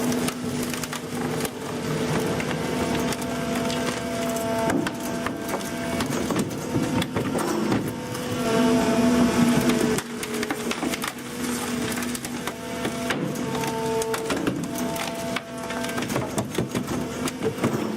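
A T1000 industrial shredder chews through copper wire scrap with a steady, dense mechanical grinding and crunching roar that stays loud and continuous throughout.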